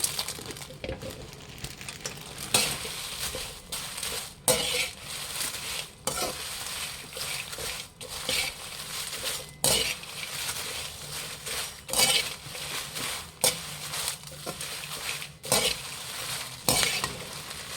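Red chillies dry-roasting in a pan for sambar powder produce a soft steady rustle and crackle, broken by repeated scraping and stirring strokes of a utensil against the pan at a close distance, with no talk.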